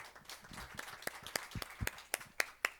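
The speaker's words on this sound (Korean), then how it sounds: "큰 박수로 맞이해 주시기 바랍니다." Scattered applause from an audience at a policy forum on product carbon regulation greeting a city council member, sharp individual claps starting sparse and growing, fairly close.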